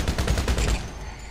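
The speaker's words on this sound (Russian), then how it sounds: "Не, надо в переднюю часть стрелять." Rapid gunfire at a vehicle in GTA Online: a quick automatic burst of close, punchy shots lasting under a second, then a fading echo.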